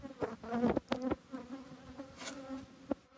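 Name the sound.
honeybees in an opened hive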